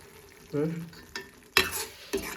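Dry shark fish curry bubbles and simmers in a pan, with a low sizzle broken by several sharp stirring and scraping knocks, close by.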